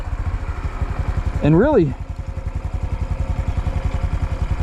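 A 2025 Honda Dax 125 motorcycle engine runs while riding, giving a steady, loud, pulsing mid-pitched drone throughout, with someone briefly talking over it.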